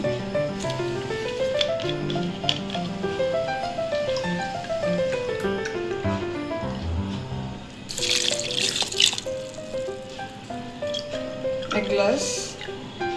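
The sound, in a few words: water being poured into blender jug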